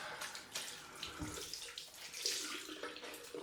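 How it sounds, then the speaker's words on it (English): Cold water pours steadily from a tap into a sink during a wet shave with a straight razor, a continuous close splashing rush with no talking over it. "Some cold water on this."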